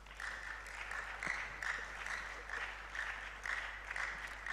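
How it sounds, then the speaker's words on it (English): Steady applause from an audience at a digital innovation week closing ceremony in Ghana, moderately distant, with a continuous patter of clapping that holds at an even level throughout. "Let's give them a round of applause."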